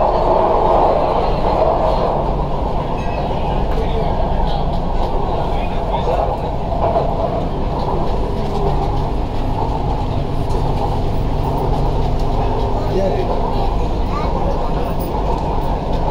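Inside a moving Chennai metro train, a steady low rumble and rolling rail noise persist throughout, with people talking over it.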